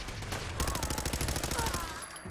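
Rapid bursts of gunfire crackle from the video game Fallout 4 over a steady background hum, with faint voices mixed in.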